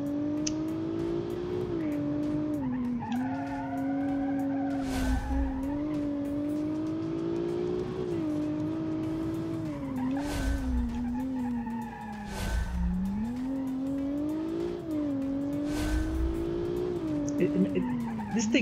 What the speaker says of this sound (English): Oh, the exhausts.